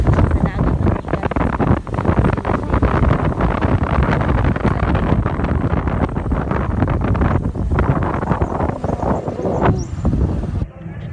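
A small motorboat carries a family around the sea, its engine droning under steady wind buffeting and rushing water, with voices occasionally over the noise.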